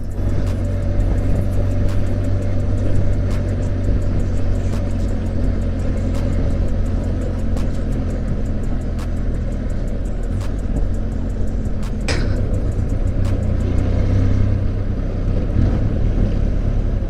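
A Benelli TRK 502X 500cc motorcycle on the road, a continuous loud engine drone mixed with heavy wind rush, steady throughout with a brief sharp noise partway through.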